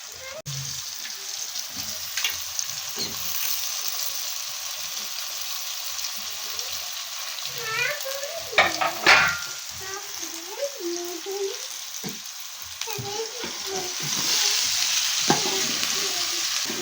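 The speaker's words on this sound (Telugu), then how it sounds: "ఇవాళ నూనెలో వేసి మంచిగా వేపుకోవాలి దొండకాయలు" Ivy gourd pieces frying in oil give a loud, continuous close sizzle with occasional stirring scrapes, and a voice speaks briefly over it.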